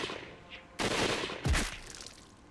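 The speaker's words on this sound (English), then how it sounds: "The air exploded with gunfire." Volley of rifle gunfire from Imperial riflemen in the Hakuoki video game: two sharp, loud bursts of shots about a second apart, each fading quickly.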